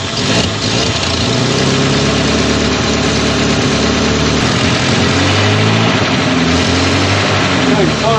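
A vintage Ford Flathead or Chevy Stovebolt engine runs steadily at a loud, close idle, a continuous rumbling drone with no breaks.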